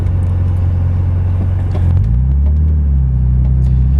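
A supercharged 1997 BMW E36 M3 coupe engine drones steadily and loudly on a test drive, its low hum shifting up in pitch about halfway through.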